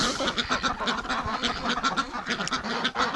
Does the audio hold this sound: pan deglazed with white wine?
no